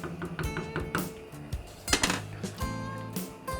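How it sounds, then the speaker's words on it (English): A spoon stirring pasta in a metal pot, clinking and scraping against the sides in an irregular run of bright knocks, close and fairly loud. "give it a good stir so it's not sticking together"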